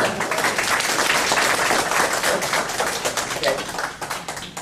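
Dense applause from a crowd at a scientific lecture on cytomics fills the whole stretch, a steady, fairly loud wash of many hands clapping with no gaps.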